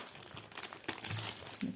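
Crinkling plastic wrap being pulled off a cross-stitch kit, close and brief, a few sharp crackles and rustles with a louder burst near the end.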